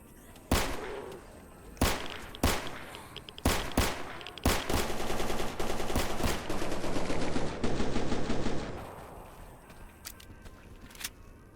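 Gunfire in the video game Stalker Anomaly: sharp single shots ring out at irregular intervals, then a dense burst of rapid automatic fire, fading into scattered distant pops.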